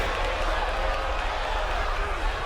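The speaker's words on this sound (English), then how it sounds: "Listen to this crowd. They are just eating this one up." A video-game wrestling crowd in WWE 2K25 roars steadily through a Christmas Brawl match, a dense, sustained cheer that fills the whole stretch without breaks.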